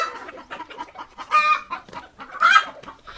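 Hens about to lay eggs cluck nearby in a busy stream of short, choppy calls, with two louder, drawn-out squawks standing out.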